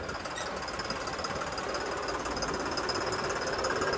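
A John Deere tractor engine runs with a land-leveling scraper attached, giving a steady, knocking diesel rumble that stays close and constant throughout, with no talking over it.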